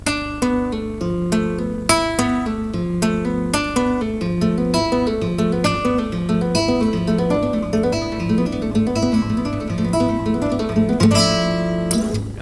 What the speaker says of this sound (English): I add one note with my pinky, that B there, and I make a little lick out of it by doing a pull-off.